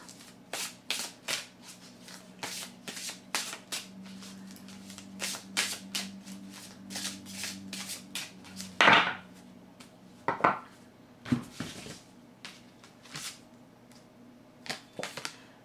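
Oracle cards from the Chemin pavé d'or deck being shuffled and drawn, giving quick papery riffles and soft clicks in an irregular run, with a couple of sharper slaps as cards are laid down. The sound is close and quiet, without speech.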